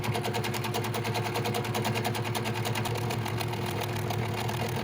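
A sewing machine runs steadily at fairly high speed while free-motion stippling a quilt, giving a continuous, evenly pulsing mechanical chatter that stays close and loud throughout, with no voices.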